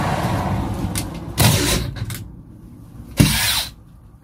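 A power tool setting riv nuts, threaded rivet inserts, into the body of an Iveco bus being converted to a camper van, giving two short loud mechanical bursts with a quieter stretch between them.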